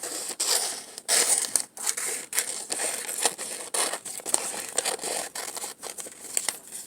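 Scissors cut a line through folded paper for a carnival unicorn puppet craft, giving a series of crisp, close snipping and crinkling sounds in quick rhythm with short gaps, no voices over it.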